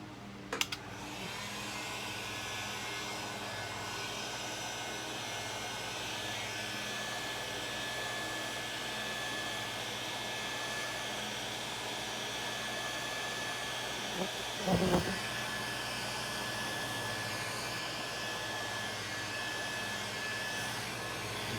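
A heat gun blows hot air onto Halloween prop wings, a steady loud hissing rush that runs unbroken throughout, with a couple of brief knocks and handling noises partway through.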